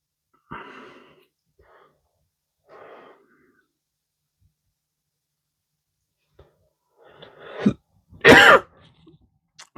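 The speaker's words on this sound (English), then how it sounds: "Excuse the coughing, I've just had another bout of the old flu." Someone with the flu coughs and clears their throat in a quiet workshop, a few soft early rasps followed by a louder, harsher coughing bout near the end.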